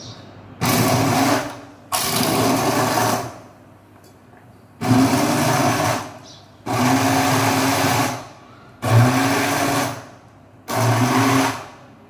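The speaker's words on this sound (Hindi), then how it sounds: "फालसे के अंदर पानी डालना है और इसे हम करेंगे ग्राइंड इस पीली से।" An electric blender grinds phalsa berries with water in loud, close bursts, roughly six on-off runs of a few seconds each separated by short pauses.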